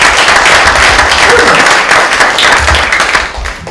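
Audience at a film festival screening applauding steadily, a dense wash of clapping that holds for several seconds before easing slightly near the end, with a faint murmur of voices beneath.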